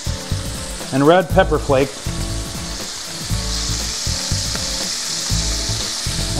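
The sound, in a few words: anchovy, garlic, red pepper flakes sizzling in olive oil in wok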